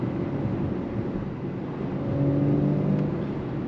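A 2024 VW Atlas 2.0 Turbo SEL Premium R-Line accelerates on the road. The engine hum and road noise build gradually, a rising tone swells partway through, and there is no talking.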